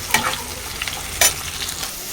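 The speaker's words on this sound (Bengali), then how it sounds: "পেঁয়াজ, পেঁয়াজটা ভালো করে ভাজতে হবে।" Onions fry in a pan with a steady close sizzle, broken by a couple of sharp scraping stirs, moderately loud and without talk.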